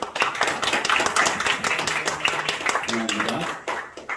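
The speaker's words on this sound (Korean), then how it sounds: "우리 환영의 박수 한번 보내드릴까요?" A church congregation claps in welcome during a Sunday service, a short burst of many hands applauding nearby, with voices and background music underneath.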